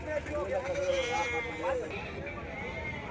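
Ongole sheep bleat repeatedly from a vehicle at the Gudur sheep market, wavering cries close by with people talking over the bustle.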